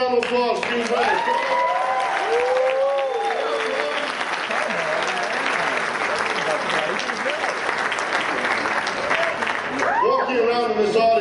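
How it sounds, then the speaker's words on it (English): Loud, full audience applause at a Los Angeles Anime Expo comedy and magic show, steady throughout, with whooping and cheering voices rising and falling over the clapping and a host's voice cutting in near the end. "give them a round of applause"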